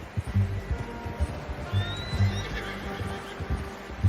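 A horse in Red Dead Redemption 2 whinnies once mid-stretch over low, thudding hoof clops and soft background rumble, fairly quiet and close.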